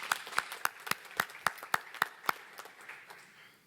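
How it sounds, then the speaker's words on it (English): Sparse applause at an environment and business awards event, about ten distinct claps from a small group spaced evenly, faint and fading out near the end. "Round of applause for Green Wave Recycling, Inc."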